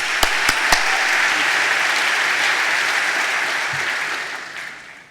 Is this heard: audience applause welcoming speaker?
yes